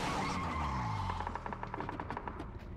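A small truck skids in PUBG as its steering slips: a loud engine roar sweeps downward while the tires scrub and chatter in rapid pulses, brief and close.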